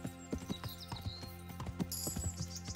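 Horse hooves clip-clop at a steady riding gait in the medieval game Kingdom Come: Deliverance, close and fairly quiet, with a brief bright game tone partway through.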